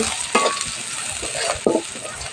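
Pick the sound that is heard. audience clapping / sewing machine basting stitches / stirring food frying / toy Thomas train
stirring food frying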